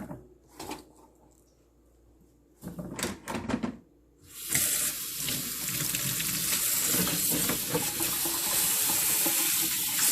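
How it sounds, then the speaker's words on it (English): Asparagus washed under cold running water from a tap, with a few brief handling clatters first, then a steady loud rush of water splashing continuously to the end. "So washing it in cold water to preserve its crispiness and freshness of our asparagus."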